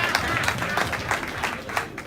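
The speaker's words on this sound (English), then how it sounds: "Let's clap for Honorable ATENY WEK as he takes his seat." An audience claps in a steady patter of many hands at a public speaking event, filling the short stretch evenly at moderate loudness.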